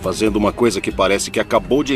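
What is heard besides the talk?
No distinct noise like a dog, phone or traffic.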